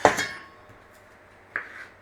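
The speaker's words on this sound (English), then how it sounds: "Peaches, we want to be chopping up the peaches." Knife chopping fresh peaches into chunks on a board: two distinct sharp chopping knocks about a second and a half apart, close and clear with quiet between.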